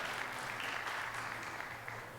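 Audience of business and community partners clapping for elementary, middle and high school students at a strategic plan presentation, a fairly quiet, steady patter of applause lasting a couple of seconds with a low hum beneath.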